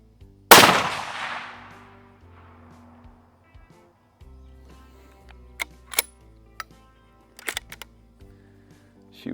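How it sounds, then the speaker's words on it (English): A handgun fired sideways at a shooting range: one loud sharp report with a long decaying tail, followed by fainter metallic clicks and clatter as the gun is handled. "Shoot one more, see if I can get a good group here."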